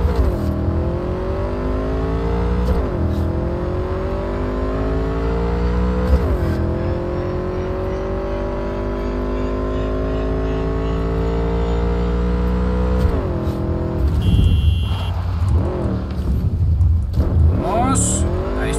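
A Kusanagi motorcycle ridden in the game Cyberpunk 2077: a loud, close engine whine rising steadily through repeated gear shifts, each ending in a brief dip before climbing again, with some speech over it.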